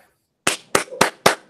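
A small audience claps briefly after a mathematics research seminar talk: four sharp, evenly spaced claps, close and clear with no talking.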